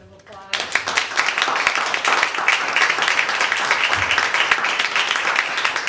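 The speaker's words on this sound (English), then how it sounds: "recognize our wonderful panelists with a round of applause" A room full of people applauds the panelists after a talk on homeownership in Seattle, dense steady clapping rising quickly and holding loud through the whole stretch.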